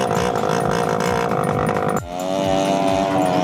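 A mini police car engine with a straight-pipe exhaust buzzes loud and raspy up close, its pitch dropping sharply partway through before climbing again.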